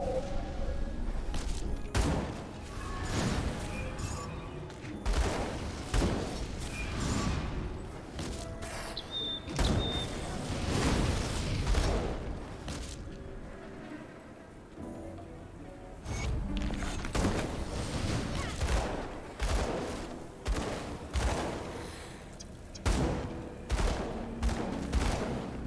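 Demon Hunter weapon fire in Grim Dawn with a Diablo 3 classes mod, rapid repeated gunshot-like impacts in dense bursts, punchy and close amid clattering game effects, with a quieter lull midway.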